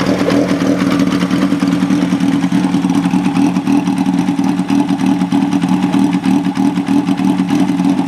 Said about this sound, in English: And I'm just going to start it up for you guys.